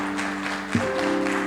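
Applause at a university Veterans Day ceremony, a soft continuous wash of distant clapping under sustained music tones that shift midway, with a brief thump near the middle.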